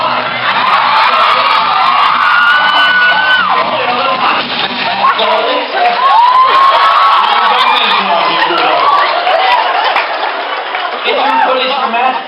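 A convention audience at a fan panel cheers and whoops loudly, a dense roar of shouting voices that swells and dips over several seconds, with some shouted speech mixed into the noise.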